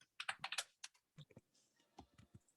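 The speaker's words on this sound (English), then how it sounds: "Typing faster than I can speak." Rapid typing on a computer keyboard, close and fairly quiet, with quick bursts of clicking keystrokes broken by short pauses.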